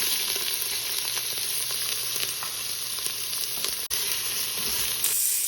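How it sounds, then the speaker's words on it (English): Onions and jalapenos sauteing in a pan with cloves and cardamom for rice pilaf, giving a steady, even sizzle with light crackle throughout and one brief dropout near the end, with no talking. "we're going to add our onions to it and stir that for about 2 minutes"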